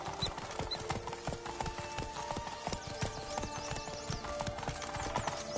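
A horse gallops in The Witcher 3, its hooves drumming in a fast, steady clip-clop rhythm, close and continuous over a busy game soundscape.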